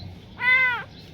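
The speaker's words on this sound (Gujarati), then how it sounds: "આ મીંદડીનું બચ્ચું છે એક" A small kitten gives one clear, close meow, a short rising-and-falling cry heard on its own against a quiet background.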